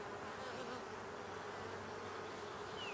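Honeybee swarm buzzing steadily and continuously during a hive inspection, a dense, even drone of many wings close at hand with no voices over it.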